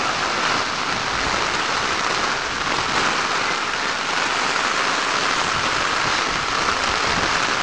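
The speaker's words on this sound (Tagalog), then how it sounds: "lakas ng ulan" Heavy rain pounds down in a steady, loud downpour, an unbroken wash of drumming water with no voices heard.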